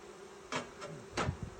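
Honey bees buzzing around a hive during queen-rearing work, faint continuous droning with a few louder passes as bees fly close by.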